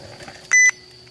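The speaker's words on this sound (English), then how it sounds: "that beep means it's done" Short electronic beep from astronomy equipment signalling a finished process, one clear tone standing out against a quiet outdoor background.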